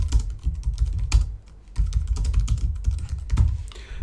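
Rapid bursts of typing on a computer keyboard while writing code, close crisp key clicks in quick runs with a short pause midway, no voices.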